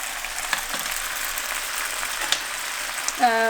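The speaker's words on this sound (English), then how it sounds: "I'm going to put the pasta in with this. Stir it all together." Pasta is stirred into sauce in a frying pan, a soft continuous sizzle with scattered scraping clicks, followed at the end by a brief voice.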